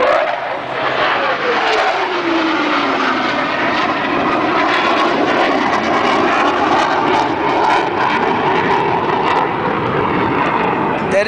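A propeller airplane roars past nearby at the Chicago Air and Water Show, its engine drone sweeping in pitch as it passes, loud and continuous with a broad rushing noise.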